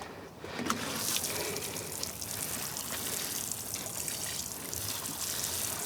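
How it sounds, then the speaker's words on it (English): Water pours steadily onto potted English lavender plants, a soft continuous trickling and splashing that runs for several seconds, fairly quiet and without speech. "this is how I water them when I think about it"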